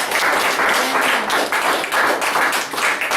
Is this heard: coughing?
no